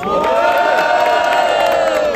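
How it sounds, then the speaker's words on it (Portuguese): A crowd at a regional qualifying rap battle shouts and cheers loudly for a rapper, a dense, sustained roar of voices with no break. "Mano, o grito tá dando um pouco mais pro Jesp, certo?"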